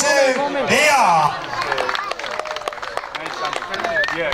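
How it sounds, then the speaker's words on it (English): Audience applause at a polo prize-giving ceremony, the B Grimm Thai Polo Masters 2019: a brief voice at the start, then a steady patter of many hands clapping in a moderately reverberant crowd. "ladies and gentlemen, one final round of applause, please, for 22 VR."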